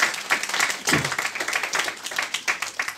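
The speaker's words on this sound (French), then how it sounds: "On acclame la parole de Dieu." A church congregation applauds in a short burst of scattered clapping that carries on steadily for a few seconds.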